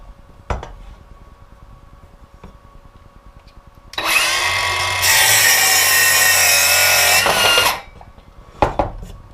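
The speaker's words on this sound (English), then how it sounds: "I've got set up with a little piece of 3/4 inch plywood. We'll see how well it cuts that" Milwaukee M12 2530-20 cordless circular saw running up and cutting through a 3/4 inch plywood board, a loud steady whine and rasp lasting nearly four seconds before winding down, with faint clicks and knocks before and after.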